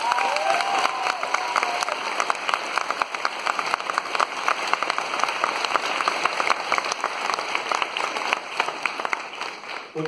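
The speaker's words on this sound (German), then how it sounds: "großen Applaus bitte" An anime convention audience at the Animagic 2018 Q&A in Mannheim's Rosengarten breaks into sustained, dense applause, steady and full for about ten seconds with no talking over it.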